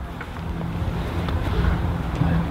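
Steady wind buffeting an outdoor microphone on a golf course, a continuous low rushing roar with gentle swells throughout and no talking.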